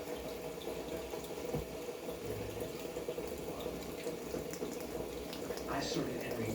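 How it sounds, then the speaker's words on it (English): Water warming for raw pu-erh tea makes a faint, steady bubbling and hissing in a quiet room, continuous throughout, with a soft metallic clink near the end and no clear talk. "just warming up the water here."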